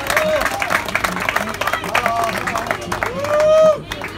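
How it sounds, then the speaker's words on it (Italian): Audience applause and cheering at a barrel racing horse event at a ranch, a steady crowd of clapping hands with scattered shouts and a whistle, fairly close and loud. "Un applauso a Serra Horse."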